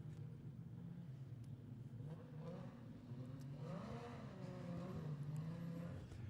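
Modified sedan race car engine at Kingaroy Speedway, a low engine drone with rising and falling revs heard faintly from a distance, steady throughout with no voices.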